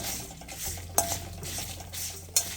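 A utensil stirs spices roasting in a pan for Kundapura rasam powder, with soft scraping and low sizzling plus two sharp metallic clinks against the pan, close and fairly quiet, no voices.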